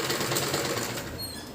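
A sewing machine runs briefly and faintly, stitching fabric for a kachchha with a rapid, even whirring hum and no talk.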